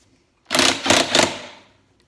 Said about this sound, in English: An impact works great because you don't even have to hold it